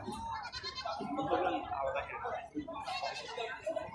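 Crossbred goats on a goat farm bleat in short, nearby calls, mixed with people talking.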